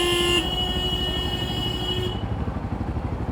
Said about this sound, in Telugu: ఎందుకురా హారన్ కొడుతున్నావు?